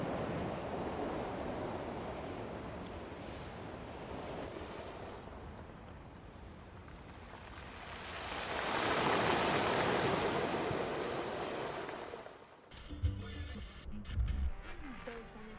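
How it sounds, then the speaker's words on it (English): Ocean waves surge onto a beach near Le Havre as the tide comes in, a steady broad wash that swells louder midway, with wind noise and a brief burst of handling sounds at the end. "Look, the tide's coming up right now."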